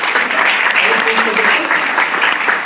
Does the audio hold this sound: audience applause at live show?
yes